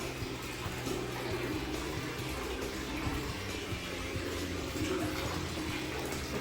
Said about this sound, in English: Fresh spring water.